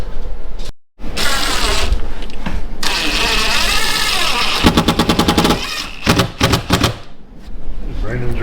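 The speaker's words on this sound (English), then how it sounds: "driving the screws" Screws being driven into Durock cement board for a woodstove hearth, a loud close power driver whirring in bursts with rapid ratcheting chatter near the end, and voices talking over it.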